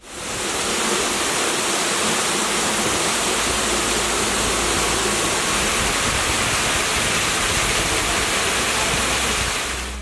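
Waterfalls and streams flowing from the Himalayan foothills in Nepal make a dense, steady roar of rushing water that stays loud and unbroken throughout, with no voices.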